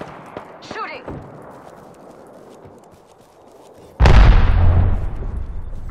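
Video game gunfire erupts suddenly as a loud, close burst of shots with a rumbling tail, following a quieter stretch with faint game effects.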